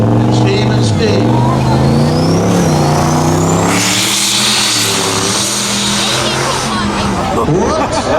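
Pickup trucks launching side by side in a spectator drag race, loud revving engines rising and falling in pitch as they scrabble for grip, with crowd noise and a commentator talking over them.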